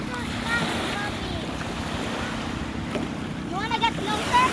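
Sea waves wash onto a Zambales island beach in a steady, rushing roar with gusts of wind buffeting the microphone, while people chatter and call out nearby.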